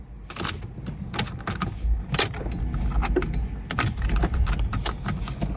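A key slides into the ignition of a Porsche Boxster, close metallic jangles and clicks from the key and keyring in a quiet car interior, several sharp taps over a low background rumble.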